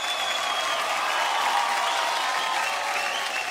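A crowd claps steadily and evenly for a singer at a grand finale singing show. The applause is dense and continuous.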